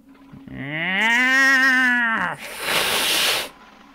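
A large feline gives a drawn-out, tonal yowling growl that slides upward and then falls, followed at once by a harsh, breathy hiss of about a second, loud and close.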